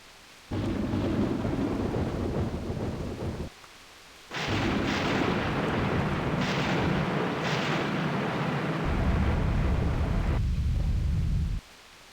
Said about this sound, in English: Yet the storm and rumblings only grew worse.